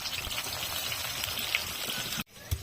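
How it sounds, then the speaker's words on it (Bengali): Chopped onions sizzling in hot oil as they fry toward crisp birista, a steady close crackle and hiss that cuts off abruptly near the end before a brief return. "পেঁয়াজ কুচিগুলো ভেজে বেরেস্তা করে নেব।"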